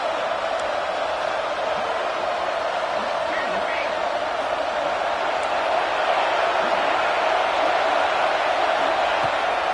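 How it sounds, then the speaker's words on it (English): A stadium crowd at a USC at Oregon college football game roars steadily as a dense, distant wall of noise, with a commentator talking over it throughout. "And this crowd rises up to try to make it tough."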